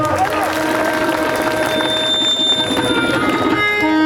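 Applause rises from a crowd at a religious festival gathering in Dharwad region, a dense, steady clatter of many hands that keeps going without a break, with sustained tones running underneath.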